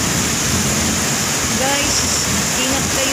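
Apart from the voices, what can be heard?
heavy rain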